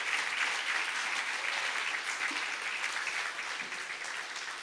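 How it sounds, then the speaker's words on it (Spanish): Church congregation applauding during a sermon, a dense steady wash of clapping heard from a distance, holding evenly and fading slightly toward the end. "Yo te voy a invitar a que le des un fuerte aplauso al Señor"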